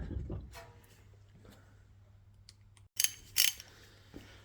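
A hand ratchet turning wheel bearing bolts on a Jaguar XK X150: soft clicking strokes over a low background hum, ending in two louder bursts of rapid ratchet clicks.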